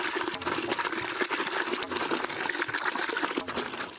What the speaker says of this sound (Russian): На приготовление еды, стирку и уборку воду набирают из 20-метрового колодца.